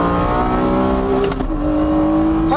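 A Honda NSX Type S with a 3.2-liter engine accelerates hard on a track, its engine note climbing loudly, dropping briefly at a gear shift midway, then pulling up again.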